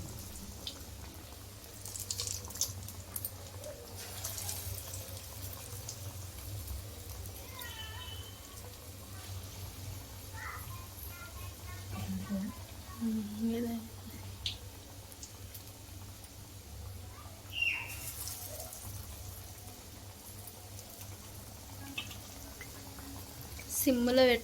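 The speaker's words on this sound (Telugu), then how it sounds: "సిమ్లో పెట్టుకుంటే మంచిగా వేగుతాయి" Moong dal vadas fry in oil over a low flame, giving a steady soft sizzle and bubbling throughout, with a voice talking over it.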